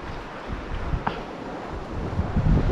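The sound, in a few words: wind picking up by the sea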